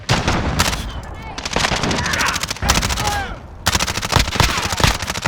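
Rapid automatic gunfire from a Call of Duty Modern Warfare 2 multiplayer match, likely an MP5, rattles in long, loud bursts with short gaps between them. Game radio chatter and whistling effects sit underneath.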